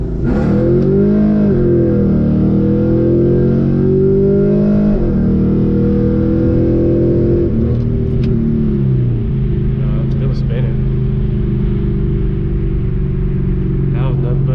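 A cammed Pontiac G8 GT V8 roars at wide open throttle, its loud, rising revs climbing through gears with pitch drops at each shift, heard from inside the car while people talk over it.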